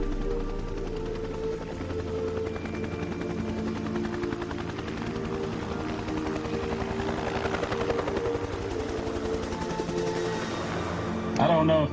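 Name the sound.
helicopter blades whopping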